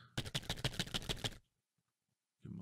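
Board game cards being riffle-shuffled, a quick rapid run of crisp, close flicking snaps lasting just over a second, followed by near silence and a brief rustle.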